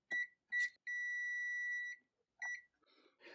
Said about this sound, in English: I'm getting continuity.